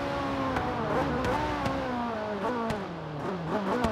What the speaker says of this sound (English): Oh that downshift sounds incredible.